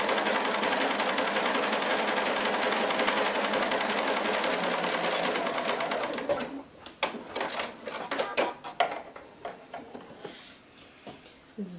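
A sewing machine stitching a child's neckerchief of jersey or cotton fabric runs in one steady, loud whir for about six seconds, then stops and gives way to a few scattered handling clicks and taps.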